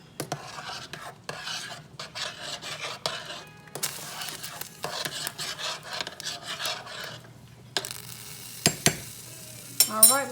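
Utensils scrape and rub through pots of cooking yams, macaroni and cabbage in a series of uneven strokes over a soft, steady simmering hiss, close and fairly quiet.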